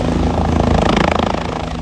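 A helicopter at the Kedarnath helipad roars loud and close, its engine and rotor making a dense, steady throbbing with a fast pulsing beat throughout.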